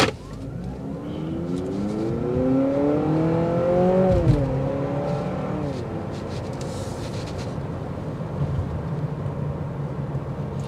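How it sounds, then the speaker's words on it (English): A 2024 Honda CR-V Sport Hybrid engine accelerates from inside the cabin, its rising whine climbing in pitch, shifting, then settling into a steady drone amid road noise. "You'll hear the engine filter in, kind of has a little bit of a peppy noise."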